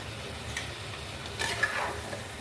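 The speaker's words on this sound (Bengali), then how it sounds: "আলুটাকে ভালো করে ভেজে নেব।" Potato pieces fry in spiced oil in a pan for a chicken curry, giving a soft steady sizzle with a light scrape of stirring partway through.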